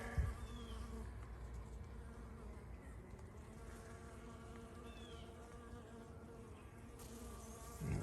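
Honeybees buzz around hive boxes, a soft, steady insect drone with a few individual bees passing close, faint and continuous with no talking.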